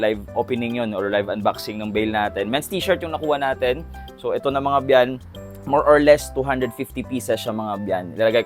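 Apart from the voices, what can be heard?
No everyday noise stands out behind the speech.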